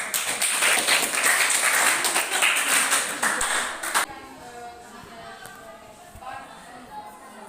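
Classroom applause for group 4 after their accounting presentation in an Indonesian teacher-training lesson: a burst of many hands clapping for about four seconds, then stopping abruptly, leaving quieter room sounds and faint voices.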